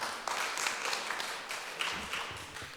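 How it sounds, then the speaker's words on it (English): An audience applauds at a conference talk session, a steady, fairly quiet wash of clapping from many hands that runs for a few seconds without a clear break. "let's have a round of applause"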